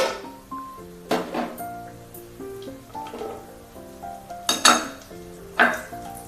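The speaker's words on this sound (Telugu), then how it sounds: "ఈ నెయ్యిలో మనం ఇప్పుడు జీడిపప్పు, కిస్మిస్ వేయించి తీసుకుందామండి" Cashews and raisins frying in a couple of spoons of ghee in a pot, with a steady soft sizzle under clinking spoon-on-metal knocks and scrapes at irregular intervals, close and moderately loud, no talking.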